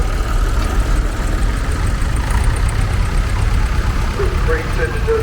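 A Fordson Super Dexter three-cylinder diesel tractor engine runs steadily at a tractor show, a continuous low idling rumble with rhythmic knock, loud and close throughout.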